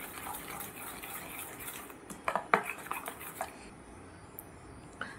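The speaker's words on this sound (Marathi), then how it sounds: "तर याला चांगलं मिक्स करून घ्यायचं आहे।" Chili powder being mixed into appe batter for a fasting dish made with barnyard millet, heard as faint scraping in a bowl with a cluster of sharp spoon-on-bowl clinks in the middle.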